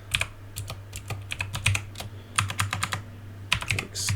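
Someone types assembly code on a computer keyboard for a CGA game, with bursts of rapid, crisp keystrokes in irregular rhythm over a low steady hum, close and clear, with no talking.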